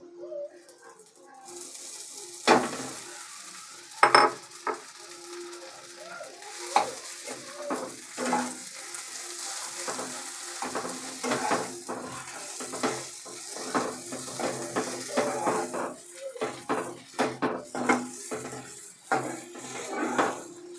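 Grated potato stir-fried with spices in a pan over a medium-low flame, with steady sizzling broken by repeated close scraping and clanking strokes of a spatula against the pan throughout.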